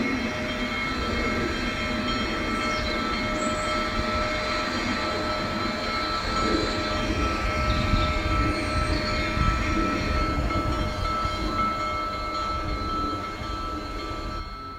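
The Big Boy steam locomotive runs across the Wyoming prairie between Green River and Evanston, a steady, loud rumbling roar with a constant whistle-like tone on top that swells slightly midway and continues throughout, with no talking.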